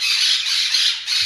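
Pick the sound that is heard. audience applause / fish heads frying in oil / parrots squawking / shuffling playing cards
parrots squawking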